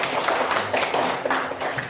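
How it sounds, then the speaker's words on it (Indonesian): Children in a primary school classroom applauding together, a brief dense burst of clapping that stays fairly steady and close for about two seconds. "tepuk tangan ya"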